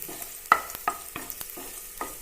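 Garlic sautéing in a pan with a spatula stirring, giving several short scraping clacks at irregular intervals over a soft, low sizzle.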